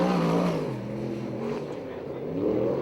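A USAC sprint car with a cast iron 350 engine runs a lap at Perris, California, its loud, throaty engine roaring close and steady, with a slight drop and rise in pitch.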